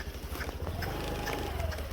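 Hooves of a pony or horse clip-clopping in a quick, steady rhythm as the animal runs toward home, close and continuous under a constant background rumble.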